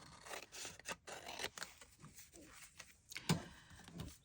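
Scissors snip through fabric scraps in a string of short, quiet cuts and rustles at close range, with no one speaking.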